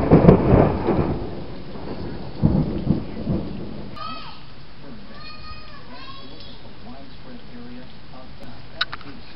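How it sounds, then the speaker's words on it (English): Loud thunder rumbles open a summer storm, two heavy cracks and rolls within the first few seconds, then fade into a steady wash of rain as faint bird chirps and a brief sharp tap come through. "Yeah, I almost got struck by lightning."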